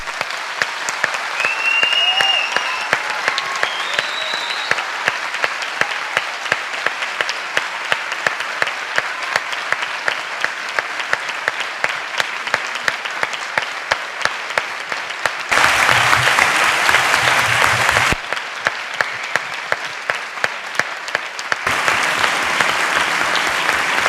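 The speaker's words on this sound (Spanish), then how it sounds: "Me juego lo que queráis a que ese aplauso no sale en la prensa" A university lecture hall audience breaks into sustained applause, dense steady clapping from many hands throughout, briefly swelling louder and fuller in the middle.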